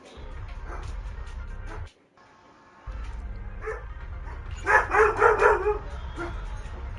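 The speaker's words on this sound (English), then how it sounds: "I think someone's dog heard the conversation" A dog barks in a quick burst of several sharp barks near the middle, heard over a steady low hum and background noise in a home setting.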